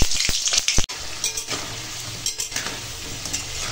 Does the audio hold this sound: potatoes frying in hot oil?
yes